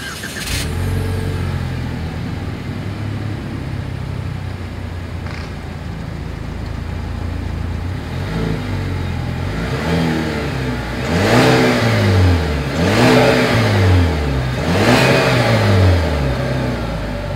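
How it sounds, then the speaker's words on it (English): The exhaust of a 2020 Chevrolet Malibu idles steadily, then revs several times in a row, each blip rising and falling sharply, loud and close with no talking. "As always, here is that exhaust clip."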